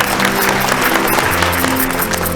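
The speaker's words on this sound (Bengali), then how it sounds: "জোরে হাততালি।" A game show audience claps loudly, a dense, sustained wave of applause holding steady throughout.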